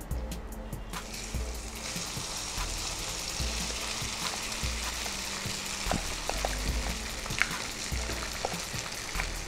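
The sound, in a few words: frying mixed lemon rice in a pan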